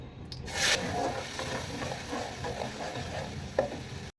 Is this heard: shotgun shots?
no